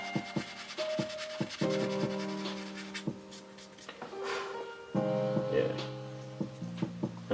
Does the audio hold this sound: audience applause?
no